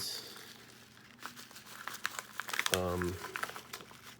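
A package received in the mail is cut open on a table, with crinkling and tearing of packaging and a short rattling burst, heard close under a person talking.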